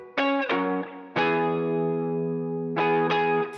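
An electric guitar plays a bright beat drenched in reverb and effects, produced in FL Studio: sharp plucked chords ring out, then a long sustained chord decays, then two more plucks, loud and alone with no talk.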